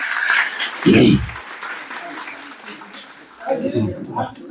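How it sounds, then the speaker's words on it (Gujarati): Applause at a college function for first-place winners, a burst of clapping from the crowd that rises and fades, with a voice speaking over the room. "કોલેજ પરિવાર તરફથી, સંસ્થા તરફથી જોરદાર તાળીઓ પ્રથમ નંબર આવવા બદલ."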